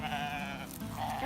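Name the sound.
sheep bleating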